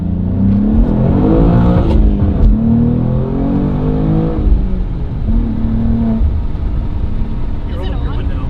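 A BMW G87 M2 with a newly installed exhaust pulls away hard, its engine and exhaust rising in a loud, sustained rev close by, with people talking over it throughout.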